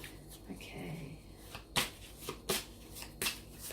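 Tarot cards riffle and snap in several quick bursts, close by, with a soft murmur of handling between the shuffles.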